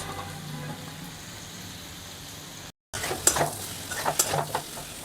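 Chopped taro stolons and prawns fried beforehand cook together in a pan: a soft steady sizzle, a brief silent gap, then louder stirring with scraping and clinks of a utensil against the pan.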